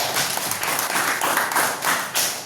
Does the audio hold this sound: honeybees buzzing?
no